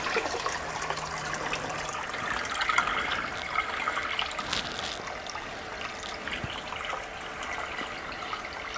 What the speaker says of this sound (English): start dumping it straight into the aquarium